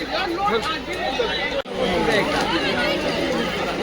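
Loud, dense chatter from a large crowd gathered around a burnt-down Holi bonfire in Vasheni village, Uran, with many overlapping voices forming a steady babble throughout.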